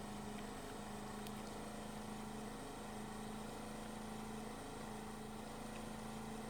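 A motorboat engine runs steadily on a river during a fishing trip, a constant low hum with a fixed pitch at moderate distance, unbroken and with no talking.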